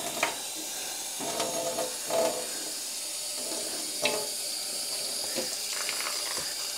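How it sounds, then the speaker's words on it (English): Cold tap water runs steadily into a sink while purple-dyed yarn is rinsed of excess dye and vinegar, a constant hissing stream broken by occasional splashes and handling knocks, close by and with no talking. "At the moment I'm just using cold tap water just to rinse out any excess dye or particularly vinegar"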